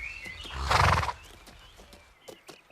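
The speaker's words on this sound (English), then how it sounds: "Take the horse round to the stables." A horse gives a loud, close neigh near the start, followed by scattered hoof clip-clops and small movement sounds, with no speech.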